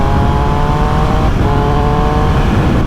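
A Triumph Speed Triple 1200 RS engine revs hard on the road, a loud close rasp with one quick shifter blip cutting the tone briefly midway before it climbs again.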